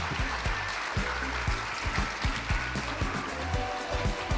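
An audience claps in welcome at a game-project presentation session, a burst of close, crisp, uneven hand claps that continues throughout.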